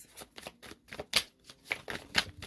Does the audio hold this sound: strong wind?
no